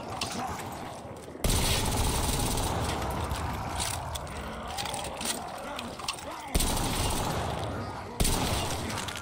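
Gunfire in a Black Ops custom zombies video game, rapid bursts of shots with sharp onsets and mechanical clatter layered over game sounds, loud and close throughout.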